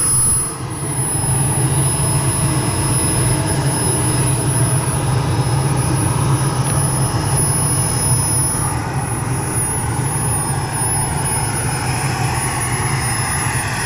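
Turbine of an AeroFoam L-39 model jet running steadily at idle, a loud continuous whine with a high pitched tone over broad roaring rush, close by and alone.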